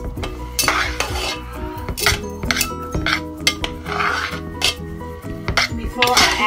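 A spoon stirs seasoned mashed potatoes in a metal pot for Liberian potato salad, making repeated close scraping and clinking against the pot in an uneven rhythm.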